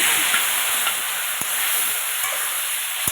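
Taro pieces go into a hot pan of potatoes while cooking a hilsa fish curry, giving a steady close sizzle with soft hiss that holds evenly throughout, with no talking.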